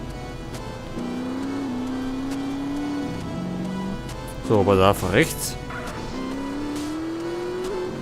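A car in GTA San Andreas drives with a steady engine drone that rises in pitch, then a sharp squealing, crashing burst in the middle. Someone talks throughout.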